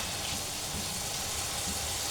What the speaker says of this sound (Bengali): নেব এই জন্য শুকনা মরিচ ভেজে নিচ্ছি